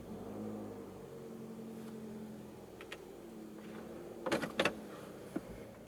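2014 Toyota Camry 2.0 G on a test drive, a steady low engine and road hum carrying through the cabin, with a few brief clicks and knocks near the end.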